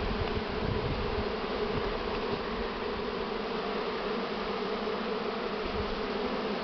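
Spring honeybee swarm being hived by a beekeeper, a dense, continuous buzzing of many bees close by at a steady level.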